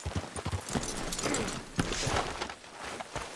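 Horses released in the open world of Red Dead Redemption 2 trot off, a run of irregular hoof clip-clops near and fairly loud over outdoor game ambience, with no talking.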